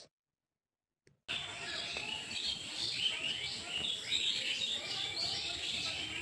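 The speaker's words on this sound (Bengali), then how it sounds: "পাশে বাঁশঝাড় আছে আর গাছপালা আছে তো প্রচুর পাখি ডাকছে" Many birds call and chirp near a bamboo grove among trees beside a vegetable garden, a steady chorus of overlapping tweets filling the air after a brief silent start.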